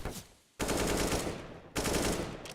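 MAC-10 submachine gun fire in a Counter-Strike match, two long rapid automatic bursts, loud and close, separated by a short pause with a third burst starting at the end.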